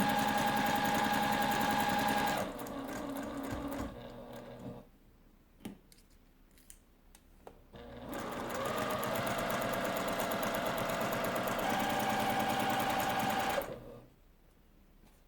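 A home sewing machine chain-pieces fabric quilt blocks, whirring in two long steady runs of rapid stitching, separated by a quiet pause filled with small clicks and handling noises as the presser foot is lifted.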